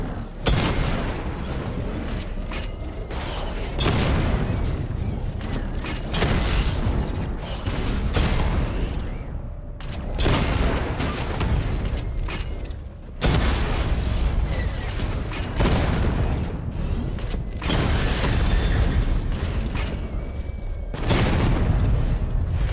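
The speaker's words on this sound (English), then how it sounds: "Charge up missile barrage to level 2 and destroy 4 active targets to complete diagnostic test" A missile barrage in Batman: Arkham Knight fires in loud, dense bursts with booming launches and mechanical clatter, going on steadily for a long stretch.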